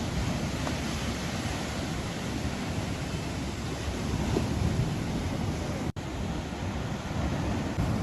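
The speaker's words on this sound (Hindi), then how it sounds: "लहरों की ध्वनि मैं सुन पा रही हूं।" Sea waves wash in a steady, unbroken roar of surf that stays even in loudness throughout, with no voices and no distinct breaks between swells.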